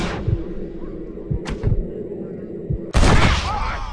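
Gunfire in the Western video game Red Dead Redemption: a few sharp, close cracks ring out against a low ambient bed, followed by a loud, sustained burst near the end.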